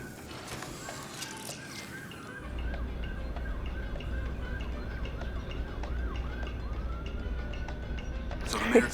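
Wailing emergency sirens sound outside in the MindsEye video game, a steady rising-and-falling tone over low rumbling ambience, continuing throughout at moderate level.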